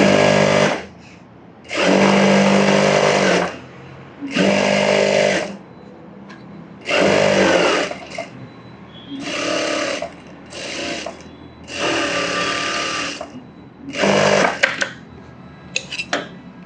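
A sewing machine runs in repeated bursts of about one to two seconds with short pauses between them while stitching around a trending new-model blouse, loud and close with no voices.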